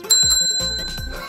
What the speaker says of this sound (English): A bell! Listen! Do you hear that?